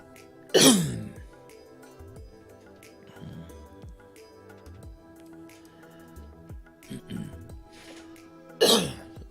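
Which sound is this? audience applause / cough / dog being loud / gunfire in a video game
cough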